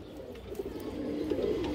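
A China Khaki male pigeon cooing softly, a low throaty warble rising and swelling over under two seconds, close and alone.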